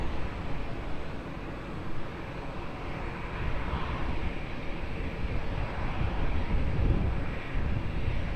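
A plane landing on runway 20 at Lisbon Airport gives a continuous rushing engine roar, moderately loud and building slightly toward the end, with no talk.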